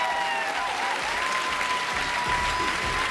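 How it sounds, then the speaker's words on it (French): Dense, steady applause fills a large theatre audience at a Paris Olympia variety show, continuous and close throughout with no voices standing out. "on va vous applaudir"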